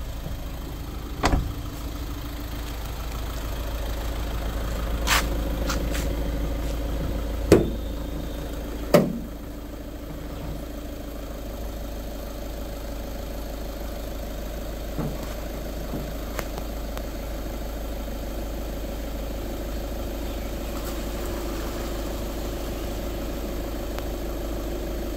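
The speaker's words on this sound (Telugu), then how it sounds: "ఒకసారి ఇంజన్ స్టార్ట్ చేసి బోనెట్ పిక్ చేద్దాం." A 2016 Volkswagen Polo Highline Plus diesel engine idles with a steady, low, even rumble, broken by a few sharp clicks and knocks early on.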